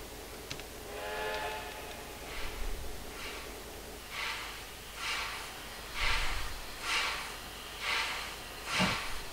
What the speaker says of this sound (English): So I'll just back the train up.